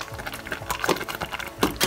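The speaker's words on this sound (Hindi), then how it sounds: "Just give it a nice stir." A spoon stirring a plum jam mixture in a pot, giving scattered light clinks and scrapes against the metal, close and irregular.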